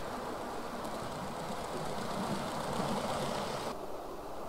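Hornby Turbomotive model locomotive, an express passenger engine, running on hand-built scale pointwork and plain track, giving a steady, even whirring rumble with no talk.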